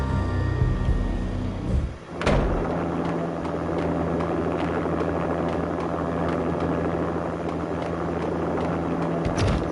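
An armed helicopter lands in the Max Payne video game, heard as a steady mechanical rotor and engine drone. A sharp thump or door-like clatter cuts in early, then the drone carries on at an even level.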